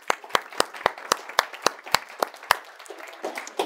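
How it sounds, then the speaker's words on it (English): Audience applause at a time-management and productivity seminar, a steady run of regular claps from a small crowd, some hands clearly nearer and sharper than the rest, fading toward the end with no talking. "Give yourselves a round of applause."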